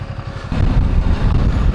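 A 2026 Ducati V2 DesertX motorcycle setting off, its engine rumble stepping up abruptly halfway through into a steady, close, throaty drone, with no voices.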